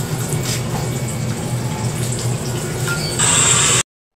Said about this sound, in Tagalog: Ayan, nagkatubig na parang ganyan lang siya ka lakas.